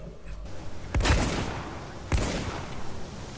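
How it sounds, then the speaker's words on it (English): Shots ring out in the video game Spec Ops: The Line multiplayer: two separate booming gunshots about a second apart, each trailing into a short rumble. "There's somebody shooting through the hole."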